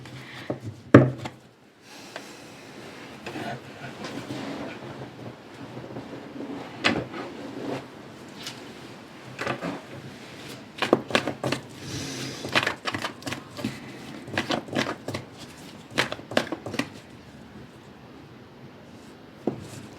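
Tarot cards are shuffled and handled at close range, with soft irregular riffling, rubbing and tapping bursts scattered throughout.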